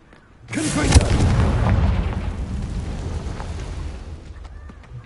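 A Confringo blasting spell cast in the Hogwarts Legacy video game on PS5 near a spider cave, one sudden loud explosive boom followed by a rumbling, slowly fading tail.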